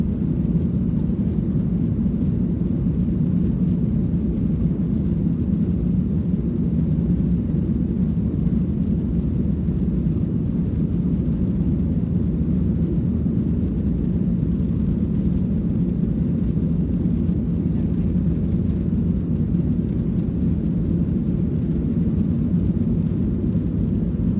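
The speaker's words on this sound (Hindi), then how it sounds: "ये जहाज़ रनवे पर रनिंग करते हुए और अभी ये इस तरह से फ्लाई कर" A passenger airliner rolls down the runway and takes off on a flight from Sialkot to Dubai, heard from inside the cabin as a steady, loud, deep engine roar with a broad rumble that holds constant throughout, with no voices.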